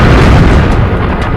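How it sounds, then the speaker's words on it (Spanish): A massive airburst explosion over remote Siberian tundra forest, the Tunguska event, rendered as a dense, loud, sustained rumbling boom with no voices. "La tremenda explosión derribó y quemó 80 millones de árboles en el bosque"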